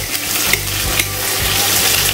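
Sliced onions fry in a pan for biryani, a loud, steady close sizzle with bubbling oil and faint stirring scrapes throughout, no talking.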